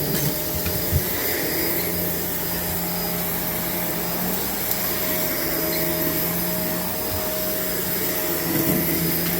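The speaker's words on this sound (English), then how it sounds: "So always vacuum the areas first if they're not wet." A vacuum cleaner runs steadily over carpet before spot cleaning, a loud constant motor roar with a tonal whine and slight rubbing texture, close and uninterrupted throughout.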